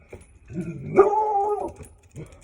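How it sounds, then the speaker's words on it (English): A dog close by lets out one drawn-out, whining bark that rises and holds before dropping away, followed by a short soft yip in an otherwise quiet room. "I love my dog."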